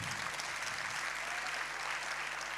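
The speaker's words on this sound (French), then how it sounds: "On applaudit ensemble, s'il vous plaît." Audience applause at a festival, a dense continuous patter of many hands clapping at moderate distance, even and sustained throughout the short stretch.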